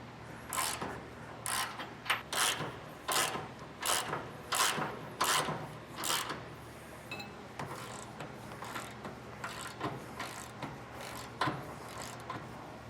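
A wrench ratchets in short, repeated bursts while a nut is tightened on a trailer axle with Easy Grease spindles, the clicking strokes close and fairly loud, separated by brief pauses.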